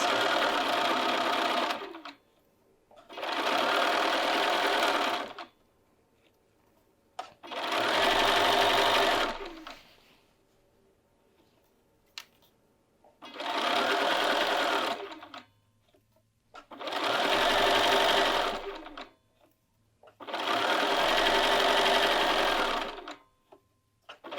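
A sewing machine sews a sleeve seam at a half-inch allowance in six separate bursts of about two seconds each, loud and close, with quiet pauses between runs.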